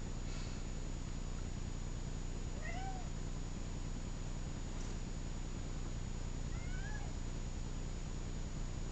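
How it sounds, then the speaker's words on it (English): A house cat meows twice, a few seconds apart, each short rising-and-falling call fairly faint over a steady background hum. "Oh, that's my cat."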